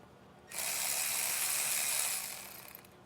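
A ratchet spins on the first tensioner bolt of a Mercedes M276 engine, a bright, fast buzzing rattle that starts abruptly, holds steady for about two seconds, then tapers off, close and fairly quiet.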